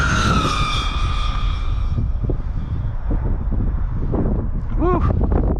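A Traxxas XRT RC truck on VXL-8S power with speed gears runs at full throttle outdoors, its high electric whine dropping in pitch as it speeds away, under heavy wind buffeting on the microphone.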